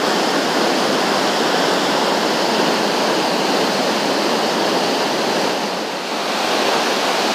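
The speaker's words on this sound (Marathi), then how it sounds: "ही डोंगरातनं अशी नदी इल्ली हा आणि ताच पाणी ह्या खाली जाता आणि इथून खाली पडता" A river pours off a hillside as a waterfall at Amboli in the rainy season, a loud, steady roar of falling water that barely varies, heard up close with no voices.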